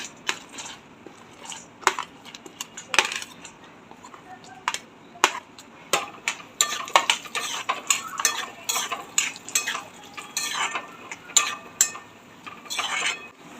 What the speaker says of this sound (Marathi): काजू पण तळून घेऊया